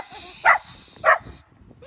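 A dog barks twice in short, loud bursts about half a second apart, close by, with a soft background hum and faint movement between the barks.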